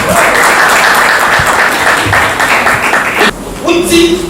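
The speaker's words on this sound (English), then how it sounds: "Clap for Jesus" Audience at a nursing school graduation lecture clapping: a steady wash of hands for about three seconds, then it thins out as a voice takes over near the end.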